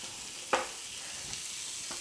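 Frozen, precooked sausage patties browning in a frying pan give a faint, even sizzle, with one sharp clink of a utensil early on and a couple of softer taps after.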